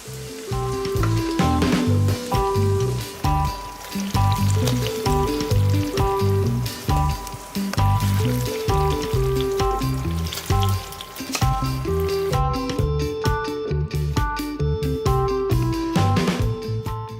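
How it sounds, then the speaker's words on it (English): Dollops of banana batter for Jamaican fritters frying in hot oil, a continuous loud sizzle with rhythmic bursts of bubbling and crackle, heard close and alone. "When your oil becomes hot, use a large spoon to scoop dollops of batter into your pan."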